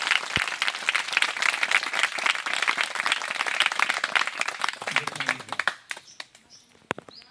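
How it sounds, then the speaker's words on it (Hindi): A congregation at a Christian worship service claps hands together in a dense, lively burst that carries on steadily, then thins out and fades into a few scattered claps. "आनंदित होकर ताली बजा के अपने प्रभु का स्वागत करेंगे"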